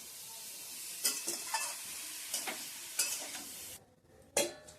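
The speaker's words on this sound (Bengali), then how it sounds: "লঙ্কার গুঁড়ো দেবো, দিয়ে ভালো করে একটু নাড়িয়ে নেব" A spoon scrapes and stirs through a sizzling prawn and drumstick flower curry in a pan as chili powder is mixed in, with repeated metallic strokes over a steady frying hiss and no talk.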